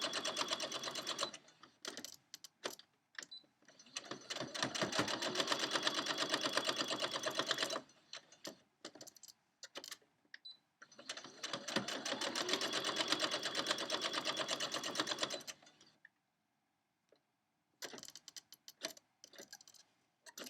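Sewing machine stitching a quilt with the presser foot as a guide, running in two long, steady bursts of rapid needle clatter separated by pauses and short stops, close and fairly quiet.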